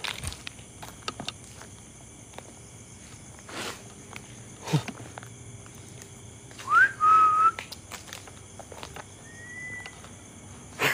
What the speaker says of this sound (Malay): Dia bersiul lah.